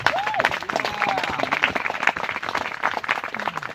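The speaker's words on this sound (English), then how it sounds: "Maybe we could give him a round of applause." A round of applause for the master of ceremonies at a celebratory gathering, dense clapping from a crowd under some murmuring voices and a brief whistle-like tone, continuous and fairly close.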